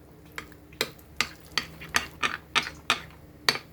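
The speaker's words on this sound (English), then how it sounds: "mix it well" Salad ingredients with sesame seeds and salt are tossed and mixed in a bowl, giving a steady series of about a dozen close, crisp scraping clinks in an even rhythm, with no talk.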